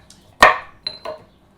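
A pestle strikes and grinds chopped ingredients in a mortar for smoked eggplant baingan bharta: one sharp, loud knock followed by two lighter clinking scrapes, close and alone with no talk.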